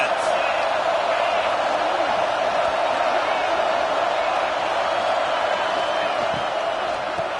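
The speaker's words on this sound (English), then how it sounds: "This crowd trying to make life miserable for this offense." Stadium crowd roars in a College Football 26 game, a steady, dense wash of cheering throughout, with a commentator talking over it.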